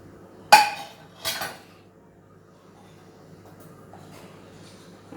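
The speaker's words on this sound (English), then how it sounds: "I am going to add these drumstick leaves to the mixture." Chopped drumstick leaves tipped into dosa batter in a bowl, heard as two clattering clinks of utensil against the dish, one sharp and one softer, followed by quiet room hum.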